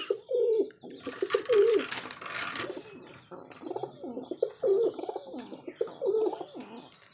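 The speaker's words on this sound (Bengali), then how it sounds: "এটা অনেক অ্যাক্টিভ কবুতর" Rajshahi Giribaj pigeons coo repeatedly in low, rolling phrases, close and fairly quiet, with a brief burst of rustling or wing flutter partway through and no speech.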